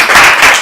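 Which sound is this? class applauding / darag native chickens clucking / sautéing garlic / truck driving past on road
class applauding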